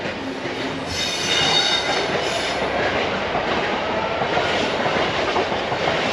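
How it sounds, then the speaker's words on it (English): A Class 66 diesel locomotive hauls a train past nearby in a long, loud, steady rumble with clattering wheels and a high metallic squeal over the rails, continuous for several seconds with no talk. "I can hear a 66 coming local"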